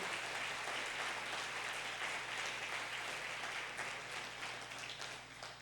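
A church congregation applauds during a family worship service, a dense, sustained wash of clapping from many hands that holds steady for several seconds before easing slightly at the end, heard from a moderate distance with no voices standing out.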